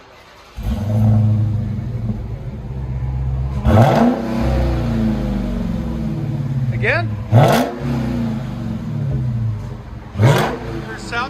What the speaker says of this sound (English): 2021 Dodge Charger Red Eye Hellcat. This is what it sounds like before.